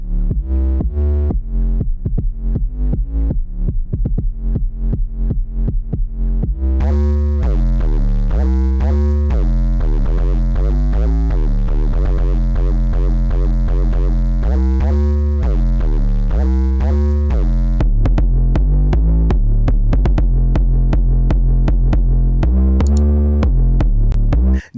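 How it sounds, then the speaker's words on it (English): Deep, distorted 808-style bass notes from a bass rompler plugin play in a steady run, shifting between layered preset tones with heavy low-end throb and no talking. "bass rompler plugin that has 15 ready-to-use layered presets"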